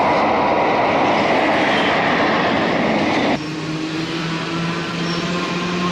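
An Erie Lackawanna westbound train passes close by with a dense, loud rolling roar and rattle of cars. Partway through, the tone shifts to a steadier hum with a few sustained tones.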